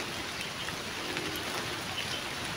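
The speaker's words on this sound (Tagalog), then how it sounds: "Parang umuulan dito mga idol, no." Soft, steady patter of light rain, a faint continuous hiss with no other sounds.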